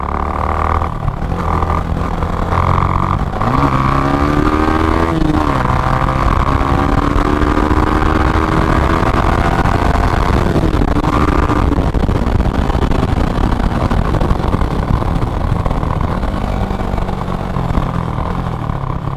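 A Yamaha R15 V3 sport motorcycle engine drones loudly and steadily while riding on a road, with rising and falling revs as it shifts gears, plus wind rush.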